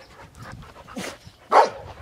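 A red pit bull at a pet resort in Weldon, California pants and huffs close by, with a few breathy bursts and one louder exhalation toward the end.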